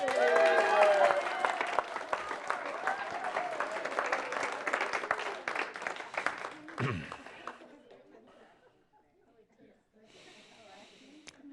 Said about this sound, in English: And the crowd breaks out in applause.